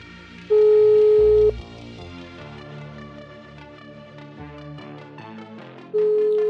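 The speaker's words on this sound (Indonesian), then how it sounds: "Jadi panggilannya terhubung ya, statusnya berdering" A steady WhatsApp voice call ringback tone sounds in two long pulses separated by a pause, with soft background music playing throughout.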